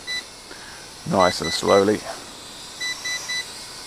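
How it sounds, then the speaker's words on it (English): A GTENG T905C drone emits short electronic beeps as it starts its return-to-home flight. A single beep opens the clip, then a voice speaks briefly, and a quick run of three more beeps follows near the end. "if I hit that, there you are, it's beep, beep, beep, beep, beep, beep, and then it's on its way home"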